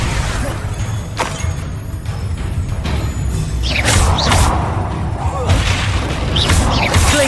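Expulso blasting spells detonate in Hogwarts Legacy combat, deep booming thuds with whooshing swishes and crashing debris repeating through the scene, loud and close, with brief speech in the mix.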